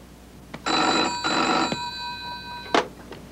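An old-style telephone bell rings in bursts, two long rattling rings close together followed by a short clipped ring, loud and near in a quiet room with no voices.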